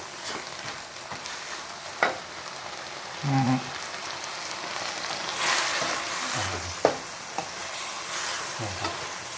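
Water spinach (morning glory) stir-fries in a pan with a steady, close sizzle, broken by a few louder scrapes and clatters of stirring and no voices.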